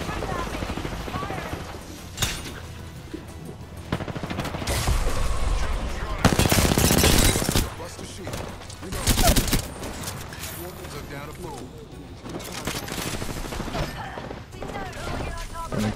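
Bursts of automatic gunfire in Apex Legends, loud and rapid, with a heavier volley in the middle, under and between a player's voice calling out during a fight.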